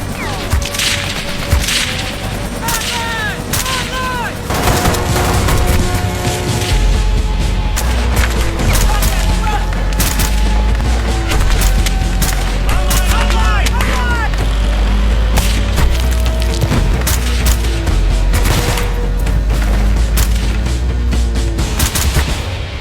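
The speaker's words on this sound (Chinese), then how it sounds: "美军指挥中心快速反应部队出现，排成一排朝着山下的敌人开枪射击" In a war film battle scene, a line of soldiers fires repeated rifle volleys downhill. The sharp cracks and heavy booms come in dense, loud bursts amid other battle noise.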